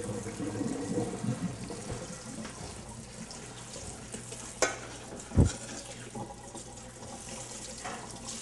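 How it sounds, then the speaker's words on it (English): Cold tap water runs steadily over freshly cooked green beans in a sink, a soft continuous splashing rush with a couple of brief clunks partway through. "start hitting them with the cold water to stop the cooking process."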